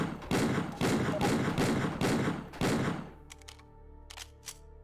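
Five heavy, booming handgun shots from the Lightning Hawk in a Left 4 Dead 2 Resident Evil mod, evenly spaced about half a second apart, followed by quieter metallic mechanical clicks and clacks.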